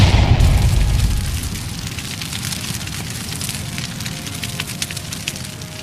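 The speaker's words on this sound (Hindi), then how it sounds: "तभी एक धमाका होता है।" A film explosion, set off by a bomb fitted inside a man's body, goes off with a loud low boom at the start, then fades into a long crackling, rumbling aftermath with scattered debris pops.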